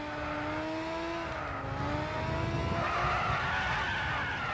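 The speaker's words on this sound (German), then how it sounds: "das war das erste Mal, dass das Heck ausgebrochen ist" A Caterham race car in Gran Turismo 6 skids as its rear end breaks out, tires squealing in long wavering tones over a steady engine drone, loud and close, with no talk.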